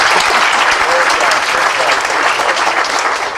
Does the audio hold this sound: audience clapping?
yes